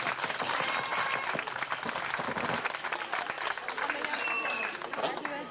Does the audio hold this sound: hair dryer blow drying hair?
no